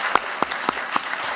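Audience applause at a school board business meeting: a few distinct, evenly spaced claps stand out over a softer bed of crowd clapping, brief and moderately close.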